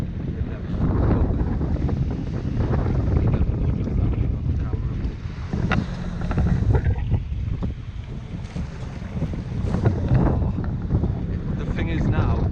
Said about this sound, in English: the wind is blowing and the waves